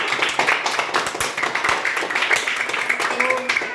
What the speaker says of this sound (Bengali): তো সাহায্যের হাত সামাজিক সংস্থার জন্য একটা জোরে হাততালি।